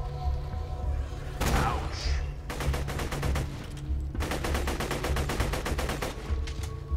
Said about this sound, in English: This is one inaccurate gun.